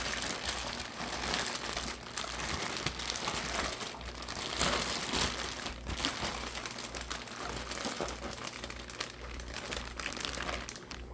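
A plastic fish bag holding rope fish, vampire plecos and guppies for a stock pond is folded and crinkled, giving close, continuous crackling and rustling throughout with no talking.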